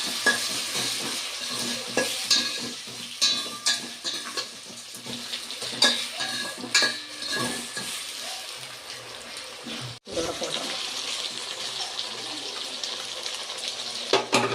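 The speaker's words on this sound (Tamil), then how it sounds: "அந்த தக்காளி நல்லா வதக்கிடுவோம் கொஞ்சம் கொஞ்சம் வதக்கி விட்டுருவோம்" Tomatoes sizzle and hiss in a hot pan for a fish curry while a spoon scrapes and stirs repeatedly, with a brief pause partway through.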